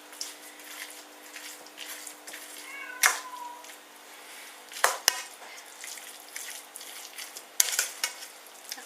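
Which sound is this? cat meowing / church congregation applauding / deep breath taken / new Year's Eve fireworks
cat meowing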